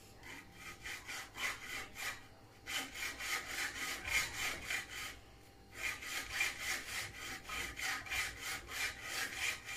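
A hand saw cuts a part for a Speedway Mini 4 Pro scooter upgrade in steady, rhythmic back-and-forth strokes, close and loud, with two short pauses between bursts of strokes.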